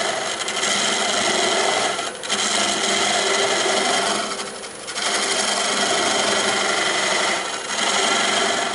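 A wood lathe turns a spalted hackberry bowl, giving a loud, steady broadband scraping hiss as the tool nibbles the wood, with a few short dips where the cut eases off.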